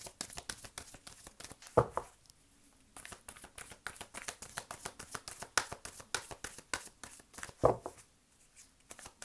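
Tarot cards are shuffled and one is drawn, a steady run of soft, close riffling and flicking with brief slaps of the deck, quiet and with no talking.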